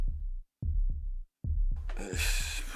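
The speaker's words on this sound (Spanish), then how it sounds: "con la conciencia de escuchar nuestros latidos" Heartbeat in low, muffled thumps arriving in paired beats with a steady rhythm, close and prominent, with a broader rushing noise rising over the final second.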